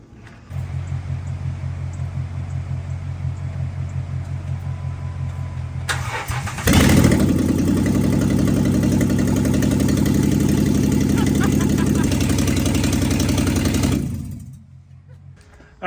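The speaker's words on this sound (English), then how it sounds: "We're going to jump this bad boy off and see if that engine is any good." A 6.0L V8 in a Jeep Wrangler, with its exhaust loose and running on open headers, idles with a low rumble, cranks over at about six seconds and catches loudly. It then settles into a loud, steady, raw idle before cutting off near the end.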